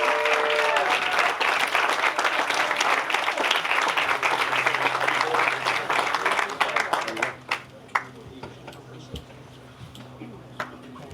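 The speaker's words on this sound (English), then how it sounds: "Some round of applause for that." An audience at a Boys & Girls Club capital campaign event applauds the Youth of the Year: loud, dense clapping for about seven seconds, then thinning to a few scattered claps and fading out.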